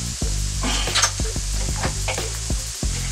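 Onions and celery cooking down in a pan sizzle steadily up close, broken by a series of scraping stirs and light clicks of a utensil against the pan.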